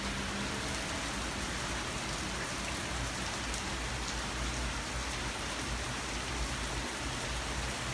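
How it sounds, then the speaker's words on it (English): Heavy thunderstorm rain pours down continuously, a dense, steady hiss of drops hitting surfaces that stays loud and even throughout, with no voices. "Oh my god, we're getting serious rain right now."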